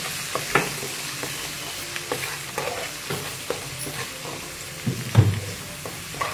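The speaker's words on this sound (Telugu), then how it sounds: "అల్లం పచ్చివాసన పోయే వరకు వేయించుకోవాలి" Fresh ginger paste frying in hot oil in a home kitchen pan, a continuous soft sizzle punctuated by repeated scraping stirs of a spoon, close and steady without talk.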